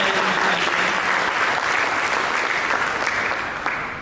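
A church congregation claps warmly through a sermon break, a full continuous round of applause that fades slightly at the close.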